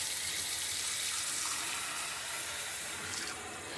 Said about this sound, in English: I'm going to fill it back up with water